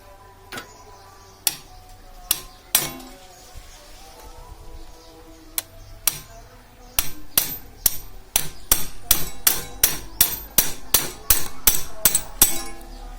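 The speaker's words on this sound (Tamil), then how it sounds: "இப்போ நம்ம இதை வச்சு லைட்டாக தட்டிட்டா போதும், வெளியே வந்துடும்" Hammer tapping out the wrist pin from a motorcycle piston and connecting rod: sharp metallic strikes, sparse and spaced at first, then a quick steady run of evenly timed taps, close and loud.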